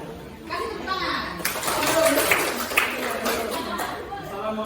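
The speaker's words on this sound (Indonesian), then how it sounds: "Kasih tepuk tangan." Classroom of children applauding at a teacher's cue, a burst of scattered clapping rising and fading over several seconds, mixed with children's voices chattering underneath.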